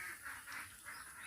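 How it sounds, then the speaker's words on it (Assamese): Ducks calling loudly, three quick nasal honking quacks in a row, faint and somewhat distant, with no speech. "হাঁহবোৰে খুব মতে চিঞৰি আছে"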